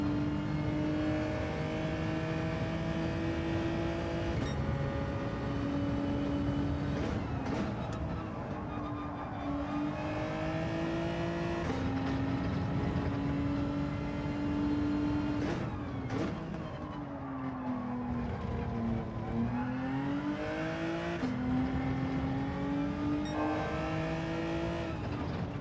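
A Genesis race car in Gran Turismo 7 at Brands Hatch screams through the upper rev range in a low gear, the engine pitch climbing and dropping with each shift and corner, loud and continuous.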